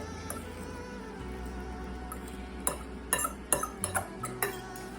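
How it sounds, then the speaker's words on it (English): A fork stirs a keto frittata egg mixture in a bowl, made without a stove: quiet scraping, then a run of clinking taps of metal against the bowl, fairly close and alone. "I'll get that fork and stir this through"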